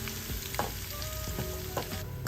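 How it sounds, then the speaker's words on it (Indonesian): Garlic and shallots frying in a pan for chicken meatballs, a steady close sizzle with a few stirring scrapes and clinks throughout. "saya akan menggoreng bawang putih dan juga bawang merah"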